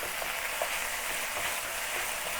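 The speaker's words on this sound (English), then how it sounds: "Stir fry it until it is cooked." Beef stir-fries in a hot pan with bok choy in the style of a Chinese restaurant, a steady loud sizzle and crackle filling the whole moment, with faint stirring clicks scattered through it.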